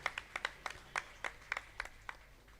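Applause from a church congregation at an Easter Mass, a sparse run of about a dozen separate claps in a steady rhythm, faint and somewhat distant in a reverberant hall.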